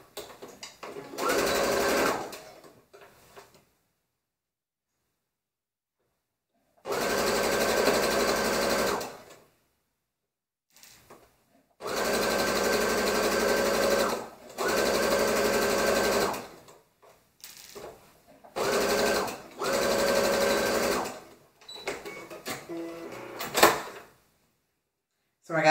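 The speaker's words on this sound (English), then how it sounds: "So I'm just going to insert it here and sew. With the 5/8 inch seam allowance." A sewing machine runs a 5/8 inch seam in bursts of steady whirring stitching, several runs of a few seconds each separated by silent pauses, close and loud.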